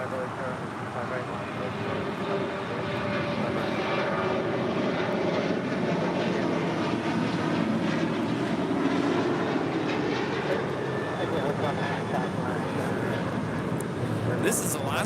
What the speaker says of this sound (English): This is Alaska Airlines Flight 310 departing to Washington Dulles on a 737-800.